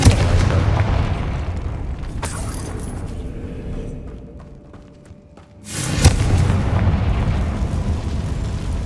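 Confringo fire spell explosions in Hogwarts Legacy: a loud, close, rumbling blast that fades into a quieter lull, then a second heavy boom with a long, crackling roar.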